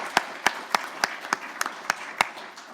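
Clapping at a startup and entrepreneurship event: about nine sharp, evenly spaced claps in a steady rhythm, close and distinct over a quiet room, with no talking.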